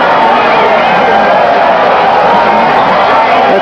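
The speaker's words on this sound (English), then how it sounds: "The crowd has kept up a bedlam since this fight started." Boxing crowd at ringside during Muhammad Ali vs Trevor Berbick, a dense, continuous roar of cheering and shouting, loud and close with no pauses.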